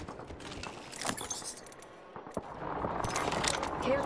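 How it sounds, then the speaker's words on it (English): Gunfire in a first-person shooter video game: a few sharp shots ring out among game sound effects and clatter, with a louder burst of firing near the end. "Got an enemy out there. They're shooting at me."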